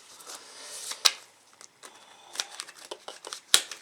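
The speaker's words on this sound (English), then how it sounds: "let's just shuffle the cards for now." Tarot cards being shuffled by hand in a quiet room, with soft riffling and sliding broken by two sharp snaps of the deck, close and fairly faint, with no talk.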